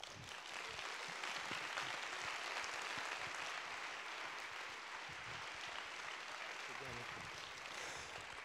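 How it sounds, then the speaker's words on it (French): A large audience at a French-language event bursts into sustained applause, a broad continuous roar of clapping at moderate level, steady from start to finish with a few brief lower sounds mixed in. "un tonnerre d'applaudissements pour François Badenès"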